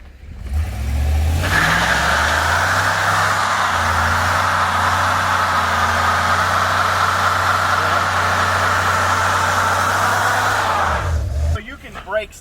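A 2018 Chevrolet Silverado truck engine revs hard and holds high during a brake stand, a loud sustained roar with a strong low drone, dropping away near the end.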